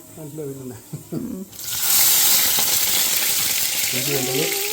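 Mustard seeds, fenugreek and garlic hit hot oil for a fish curry and set off a sudden loud sizzle that keeps crackling. Voices talk briefly before and after the frying begins.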